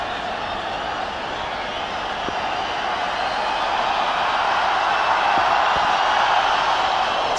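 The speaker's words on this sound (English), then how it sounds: "You can hear the crowd waiting in anticipation" A large cricket stadium crowd at a one-day international in Bangalore, a broad, continuous murmur of expectant noise that swells slightly louder toward the end, with occasional faint clicks.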